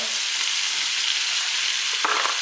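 Red peppers hit a hot pan for a quick Haitian spaghetti with mango habanero sausage, giving a steady, loud, close sizzle of frying that holds throughout, with a brief stirring scrape near the end and no talking.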